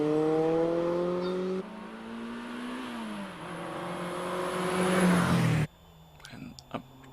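A Renault Clio race car screams up the Prescott hillclimb, engine climbing through revs with gear-change drops before cutting away, while a commentator talks over it.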